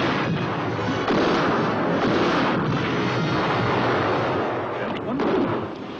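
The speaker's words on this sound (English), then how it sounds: "Tell Mr. Morton to open fire" A 1967 World War II desert war film trailer sounds heavy gunfire and explosions as troops open fire, a dense, loud barrage of bursts and rumbling blasts filling the whole stretch.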